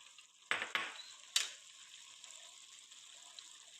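A utensil scrapes and clinks against a frying pan while cooked rice and spinach are mixed, with a few sharp metallic taps early on and then a soft, faint sizzle running underneath.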